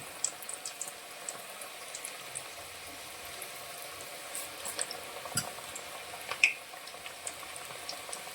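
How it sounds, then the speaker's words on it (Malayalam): Onion pakoda batter dropped into hot oil, giving a faint, steady fizz and bubbling with small pops and crackles scattered throughout, heard alone without talk. "അപ്പോൾ നമുക്ക് ഇത് എണ്ണ ചൂടായതിലോട്ട് നമുക്ക് ഇട്ട് കൊടുക്കാം"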